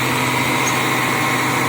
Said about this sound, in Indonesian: Ini Simpati Star lagi manasin mesin.